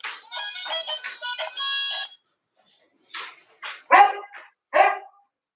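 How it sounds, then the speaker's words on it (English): Dogs bark indoors in a house, with a cluster of rapid, fairly loud barks followed by a few sharper, louder barks after a brief pause. "Every time I get to talking, them dogs get that barking"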